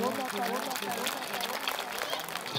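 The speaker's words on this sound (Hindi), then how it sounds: "जोरदार तालियां इनके लिए" Children's Day prize-giving at a school in Kargil, where an audience claps for award winners, a dense steady patter of applause throughout the short moment with voices mixed in.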